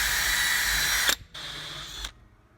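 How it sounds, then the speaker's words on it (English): A power drill with a step bit whines steadily at high pitch drilling a hole, stops briefly, then runs again for about a second before cutting off. "Just use a step drill to drill that out."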